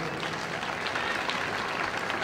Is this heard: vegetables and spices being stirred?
no